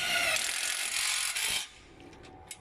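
A screwdriver drives screws into a metal profile on a vegetable greenhouse arch, producing a loud, continuous grinding whir for over a second before stopping, followed by faint clicks.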